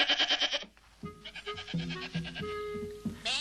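Goats bleat on an island, several quavering, wavering calls following one another closely and overlapping, fairly near and clear over a quiet background, with no talking.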